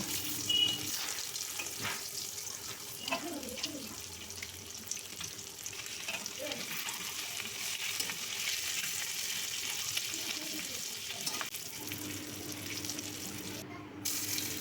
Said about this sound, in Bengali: বাকি ডিমগুলো এভাবে ভেজে নেব